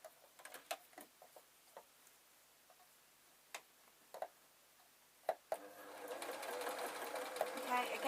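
A home sewing machine stitches a seam in tweed fabric, starting with a few soft ticks and clicks, then settling into a continuous close whirring run that grows louder toward the end.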